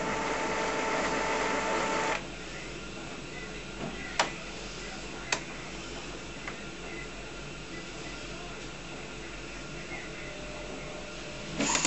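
Epson BX300F printer charging ink after a continuous ink supply system install, giving a steady mechanical whir with a louder stretch at the start, a few sharp clicks, and a brief rise at the end.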